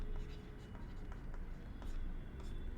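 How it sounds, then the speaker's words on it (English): Marker or pen writing the word marketplace on a board, a series of short scratchy strokes in quick succession, fairly faint and close, with a steady room hum underneath. "I'll just write down the marketplace"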